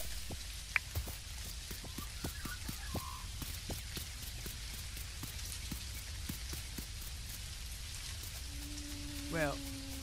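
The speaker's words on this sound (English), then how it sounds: "I'm not too sure about having it rain all across the island, including in the desert area" Rain falls steadily in the video game Dinkum, a soft continuous patter with scattered sharp drop ticks, moderately faint, joined near the end by a brief tonal chirp.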